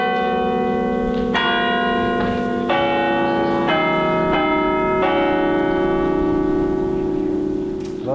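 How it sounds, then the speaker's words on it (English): Church bells in County Cork rung by hand-pulled ropes, a sequence of loud, overlapping strikes with long ringing tails sounding one after another in steady succession. "So it's great for tourists to come and to be able to pull the bells."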